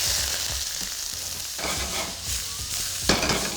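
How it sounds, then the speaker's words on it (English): Chopped onion, garlic and lemon zest hit smoking-hot oil in a wok, giving a loud, steady sizzle broken by several scraping stir strokes, close up with no talking. "And when it's hot and smoking like this, you want to add the aromatics."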